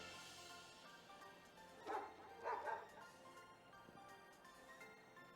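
Dogs bark in a battle in the video game Pokémon Scarlet, two short clusters of yips and barks midway over a steady game music bed.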